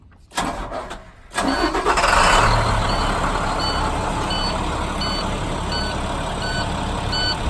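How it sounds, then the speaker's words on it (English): A Class B truck engine cranks briefly, then catches and settles into a steady, loud idle, with a repeating electronic beep sounding at regular intervals. "And I'll turn the vehicle on."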